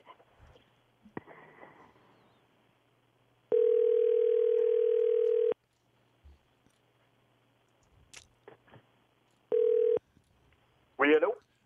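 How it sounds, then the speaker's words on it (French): A telephone dial tone sounds while a call is being placed, a steady two-second tone and a shorter second burst, with clicks, a brief ringing warble and a nearby voice in between. "Luc, t'es en train d'appeler"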